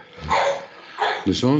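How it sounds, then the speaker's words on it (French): A dog barks and yips in the background, a few short barks heard under a man's conversational French speech over a call. "C'est mon chien que vous entendez."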